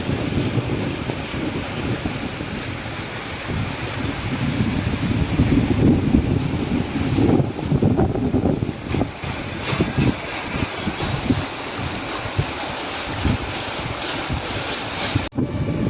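An electric river cruiser moves along the river beneath Howrah Bridge, with constant wind buffeting and rushing water wash filling the foreground throughout and no voices.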